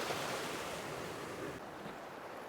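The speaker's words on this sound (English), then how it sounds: "I can see waves breaking over to my right, I can see waves breaking over to my left" Sea waves break on a rough-ground shoreline at night during cod fishing in the UK, a continuous loud wash of surf mixed with wind buffeting the microphone.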